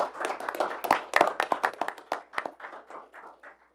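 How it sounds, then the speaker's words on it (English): A small room at a city commission meeting breaks into a round of applause for a newly seated city commissioner, a sparse burst of close hand claps that starts strong and then thins and fades out. "We'd like to give a round of applause to our new city commissioner,"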